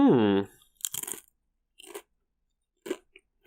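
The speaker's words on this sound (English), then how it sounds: "Second ASMR crunch." Several separate crunchy bites of a snack in a podcast-style recording, after a brief burst of talking; short dry crackling crunches spaced apart, close and fairly loud, with quiet gaps between.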